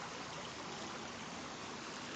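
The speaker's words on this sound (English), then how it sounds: "get some sounds of the water" River water flows steadily at the pebbly confluence of the Witt and Trub, a dense, even rushing that fills the whole stretch without a break and with no voices.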